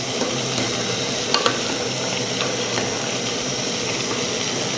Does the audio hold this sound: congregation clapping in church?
no